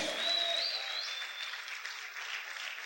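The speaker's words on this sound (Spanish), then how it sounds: "Aplaude, aplaude, aplaude, aplaude, aplaude fuerte al Rey" A church congregation claps together during a worship service, producing a soft, sustained wash of applause that holds steady throughout.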